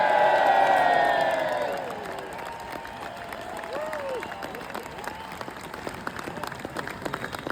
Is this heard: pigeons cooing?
no